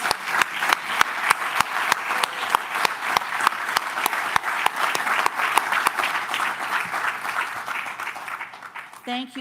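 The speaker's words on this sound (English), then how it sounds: "let's give one more round of applause for all of our award recipients" Sustained applause from an audience honoring medical school alumni award recipients, dense steady clapping with a crowd murmur that fades near the end, giving way to a brief tone.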